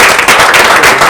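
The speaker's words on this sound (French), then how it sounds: "On applaudit pour le chef." Dense applause and clapping for the chief at a Congolese music gathering, loud and close, filling a brief continuous burst.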